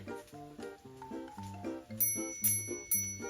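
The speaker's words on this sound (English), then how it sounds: "Yeah, that was a really cute bike bell." A cute bicycle bell on a yellow bike dings repeatedly in bright metallic rings, growing louder and more insistent toward the end, with no talking over it.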